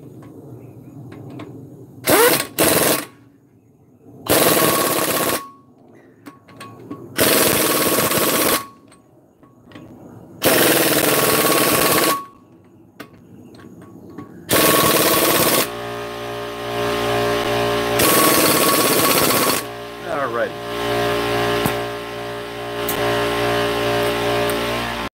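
An impact wrench tightens wheel lug nuts in a star pattern during a brake inspection, loud rattling bursts of one to two seconds repeating with short pauses, then a steadier mechanical hum and clatter near the end.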